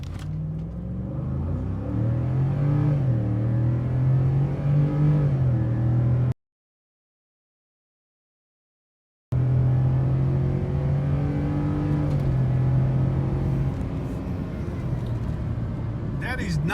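A Ford F-150 truck with the 5.0 Coyote V8 in four-wheel drive high launches hard in a 0-60 run, its loud engine roar rising through the gears, cut by a brief dropout before resuming strong.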